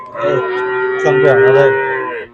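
A cow lows loudly and close by, one long drawn-out moo among cows and calves at the Vayyankara cattle market.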